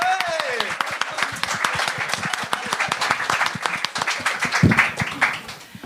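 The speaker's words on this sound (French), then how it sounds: "S'il vous plaît, faites beaucoup de bruit pour votre première humoriste ce soir, Mariam Lamontagne." Audience at a French-language open mic comedy show claps for a comedian coming on stage, a dense burst of applause that holds steady with a voice briefly heard over it at the start.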